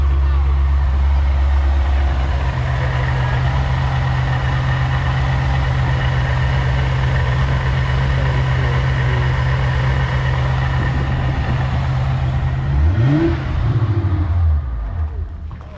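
A classic car engine at a concours of elegance show idles with a loud, deep, steady rumble close by, then revs near the end, the pitch sweeping up and back down.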